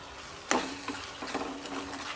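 A spoon stirs corn kernels into simmering spinach gravy in a pan, one sharp scrape followed by several softer clinks and wet stirring sounds over a faint sizzle.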